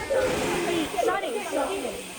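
Steam hisses steadily from steam locomotive G42 as it rests in the stabling sidings at Belgrave Station on the Puffing Billy Railway. The broad, continuous hiss runs beneath someone talking close by.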